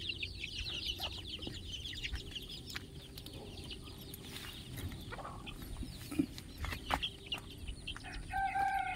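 Desi country hens cluck softly among their chicks, with scattered calls and faint high peeping over a low background rumble. The sounds are fairly quiet and a little distant.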